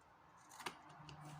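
Scissors cut through paper card, a single crisp snip with a short rustle around it, close and quiet.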